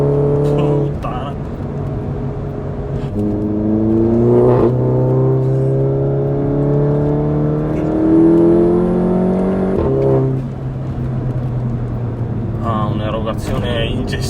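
A tuned 340 hp front-wheel-drive Volkswagen Golf GTI Mk7 engine climbs through the revs in long rising pulls, dropping between gear changes, loud and close, with a voice talking over it at times.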